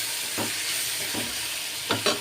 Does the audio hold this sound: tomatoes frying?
yes